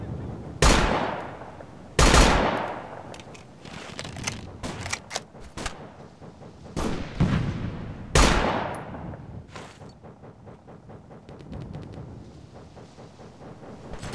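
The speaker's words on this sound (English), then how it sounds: "Shots fired!" Gunfire in Operation Flashpoint: Dragon Rising, with loud, sharp near shots at irregular intervals among bursts of rapid distant firing and a sniper engagement, all without talk.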